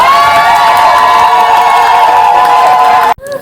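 Guests at a customary wedding in Liège, Belgium, cheer loudly with sustained, tonal voices and shouts over faint clapping, a near, continuous roar that cuts off abruptly near the end.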